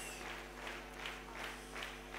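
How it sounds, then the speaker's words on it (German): Carnival session audience applauding a large marching dance guard, a faint, even wash of clapping with gentle rhythmic swells over a steady electrical hum, no voices on top. "Ja, euer Applaus, Mädels."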